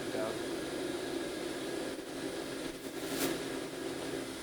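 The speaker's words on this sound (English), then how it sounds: "We're running the spindle." Spindle of a Fadal CNC vertical machining center running in a shop, a steady broadband machine whir with a constant mid-range hum and a brief high whine swelling near the end, with faint talk underneath.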